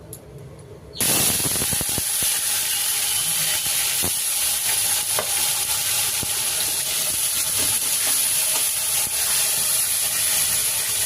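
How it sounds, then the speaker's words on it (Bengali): Bitter gourd slices coated in salt, turmeric and chili powder go into hot oil, giving a loud, steady broadband frying sizzle that starts abruptly after a quiet second and continues without pause, with occasional pops and crackles. "এবারে আমি তেলের মধ্যে দিয়ে দেবো।"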